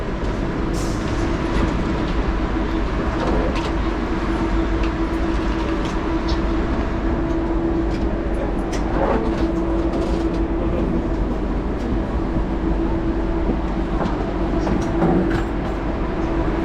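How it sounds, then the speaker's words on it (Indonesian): A KLIA Express airport train in Malaysia rumbles along continuously with a steady low hum and faint clickety-clack, loud and close as if heard from inside a carriage. "ini adalah stesen kereta api tercepat KLIA Express kepunyaan negara Malaysia"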